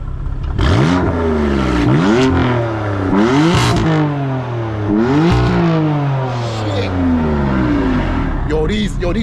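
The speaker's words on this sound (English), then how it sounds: "these Beamers are loud" BMW M3 and M4 with IPE exhaust systems revving loudly, several sharp repeated throttle blips rising and dropping in pitch, close and aggressive, with people talking over the engine noise.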